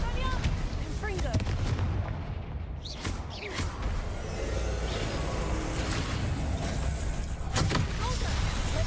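Confringo fire spells blasting in Hogwarts Legacy, a rapid string of loud booming impacts and crackling bursts over a dense, continuous game soundscape.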